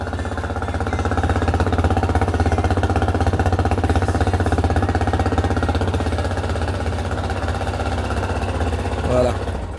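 A cold engine in a workshop, started at the push of a small button, runs with a steady, loud, knocking idle. The running continues throughout with a slight bump near the end.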